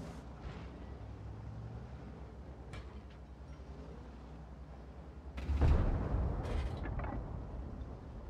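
Gunfire and explosions in the video game Concept 1B: a low rumbling bed with sharp crack-like shots, then a louder burst around the middle that rolls and decays.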